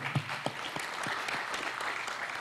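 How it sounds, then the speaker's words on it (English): Applause from the audience at an African writers conference, brisk scattered clapping with a few louder claps standing out at the start and throughout. "A round of applause for her"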